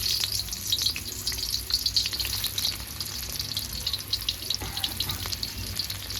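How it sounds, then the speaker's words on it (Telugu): Sliced onions hiss and crackle in hot oil in a home kitchen pan, a steady close sizzle running the whole time with brief faint clinks, for a chicken fry biryani. "ఆయిల్ వేడైంది, ఉల్లిగడ్డ వేసుకుందాం."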